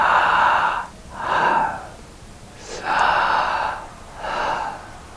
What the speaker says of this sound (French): Il y a le mantra sa à l'inspire, ha à l'expire